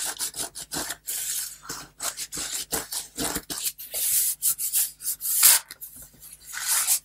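A white Teflon bone folder burnishing paper: rapid, close scratchy rubbing strokes in irregular bursts with short pauses between them, fairly quiet and unaccompanied by talk.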